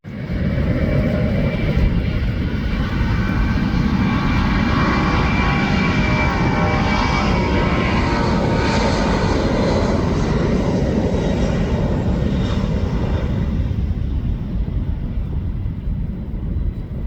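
A fixed-wing aircraft roars loudly and continuously at Louisville Airport (SDF) on a rainy day, a steady broad engine rumble with wind buffeting the microphone and no talk.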